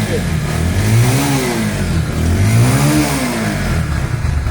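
A 2022 Bajaj Pulsar 150cc motorcycle engine revs loudly and close, its pitch rising and falling in two or three swells over a steady idle rumble, with a voice talking over it.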